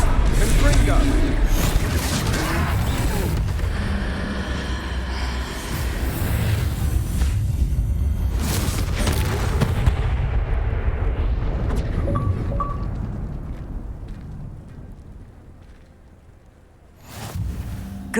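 A Confringo blasting spell in Hogwarts Legacy sets off loud booming explosions with heavy rumbling low end that swells and fades over many seconds, mixed with game sounds and voices, then tails off into quiet before a fresh burst.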